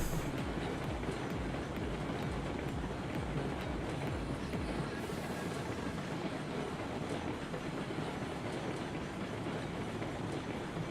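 A passenger train ride in the video game Railroads Online: a steady, continuous rumble of rolling rail cars with faint clickety-clack from the wheels, holding at an even level throughout with no talking.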